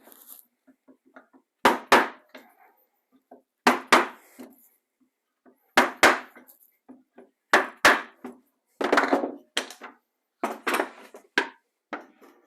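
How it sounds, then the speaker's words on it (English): A punch is tapped through a vertical template into wood to start pilot holes for a fishing rod rack, sharp knocks in short clusters of two or three, loud and close, no talking. "I'll go ahead and just punch a pilot hole for each one"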